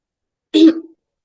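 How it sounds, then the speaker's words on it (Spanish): A single harsh cough bursts out once, close and fairly loud, then trails off quickly into quiet, from a woman lecturing on gingival pathology. "Ay, disculpe, me voy a morir de la tos."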